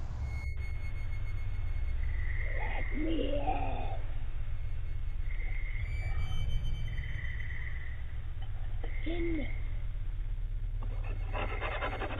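Faint, eerie wavering whistles drift in and out over a constant low hum and hiss, with no voices present.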